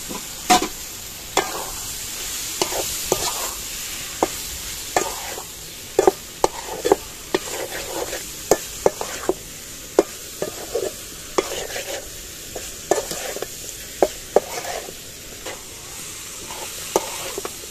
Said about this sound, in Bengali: আমি চিংড়ি মাছগুলো ভেজে রেখেছিলাম, সেটা দিয়ে দেবো